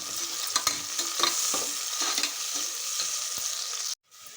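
Sliced onions sizzle in a pan for vegetable pulao, a steady close frying hiss broken by repeated stirring scrapes from a spoon, with no voices, cutting off abruptly near the end.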